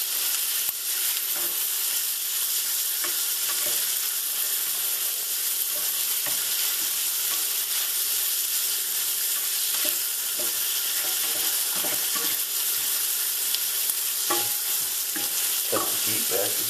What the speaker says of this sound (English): We'll put in our fresh Maine lobster. Let's saute a bit.